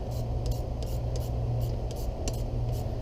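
A ratcheting wrench working on 14mm bolts of a 2007 Honda CBR 600RR front end: quick repeated clicking ticks over a steady low background hum, close up and fairly even in pace.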